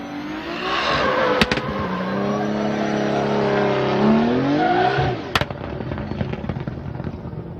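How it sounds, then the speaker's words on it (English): A Toyota 86 drift car on Nexen tires at a Formula Drift qualifying run in Orlando revs hard and loud, its engine tone climbing steadily over several seconds before it drops off, with crowd and track ambience behind. "Ryan Tuerck definitely putting some heat on those tires"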